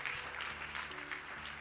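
A church congregation applauding: a dense, continuous wash of clapping from many hands, fairly distant and moderately faint, lasting throughout.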